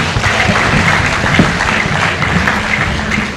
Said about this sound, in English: A resounding applause for her one more time.